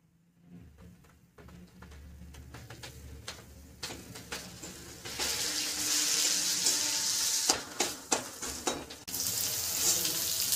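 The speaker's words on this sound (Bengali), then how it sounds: "পেঁয়াজটা আমি গোল্ডেন ব্রাউন করে ভেজে নেব" Chopped onions with five-spice seeds hit hot mustard oil in a wok, the sizzle swelling from quiet to a loud steady hiss, punctuated by sharp spatula clicks and scrapes.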